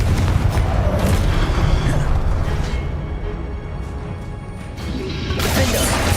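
Confringo explosion spell in the video game Hogwarts Legacy, a loud booming blast with crashing debris that decays into a rumbling tail, then another impact rises at the end.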